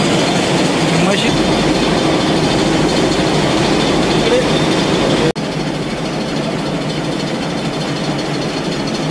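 A rice milling machine for hulling paddy runs continuously with a loud, dense mechanical roar and a low engine hum. The noise stays steady, with a brief dropout about halfway through.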